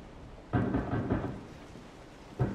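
Thunder in the horror video game Resident Evil 7: a sudden rolling rumble that swells, fades over about a second, then breaks again briefly at the end, under a faint rain-like hiss.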